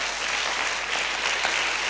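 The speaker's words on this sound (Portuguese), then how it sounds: "Dê uma salva de palmas a Jesus." Congregation applauding Jesus during a church sermon, a steady dense wash of many hands clapping, loud and close, with no talk over it.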